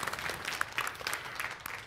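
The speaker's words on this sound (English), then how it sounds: "you can applaud the Lord for that if you want" Faint, scattered applause from a church congregation during a Sunday anniversary message, a brief patter of claps heard from a distance.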